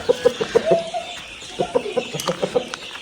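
Chickens and young chicks cluck in a steady series of short, close calls, with one drawn-out call in the middle and no talking.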